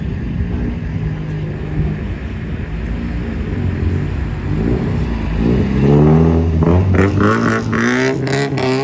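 A Top Secret Toyota Supra with a 2JZ engine pulls out of a gas station, a deep idle building into loud, rising revs with several sharp throttle blips near the end.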